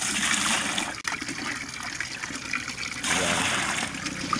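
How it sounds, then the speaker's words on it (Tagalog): Water poured from a container into a bucket while mixing a molasses feed, a steady close splashing trickle that runs throughout, with a brief break near the start. "Tapos dito naman pre, tubig ulit."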